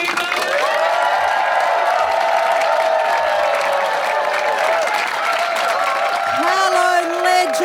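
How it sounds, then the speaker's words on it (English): A comedy club audience at Comedy Republic claps and cheers loudly as a comedian comes on stage, a dense and continuous wave of applause mixed with whoops that holds steady throughout. "Clap your hands, lose your minds, go absolutely crazy for Kirsty Webeck"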